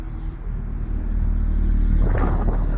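A Porsche rolls up during a German car photo shoot, a low engine rumble growing louder as it approaches, steady and fairly close, with no talk.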